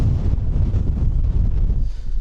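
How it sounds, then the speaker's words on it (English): Strong wind of about 25 mph with gusts near 30 mph roars across a Lake District summit at a wild camp, a loud, continuous buffeting rumble against the microphone with no voices. "the wind's about 25 mile an hour with the odd 30 mile an hour gust"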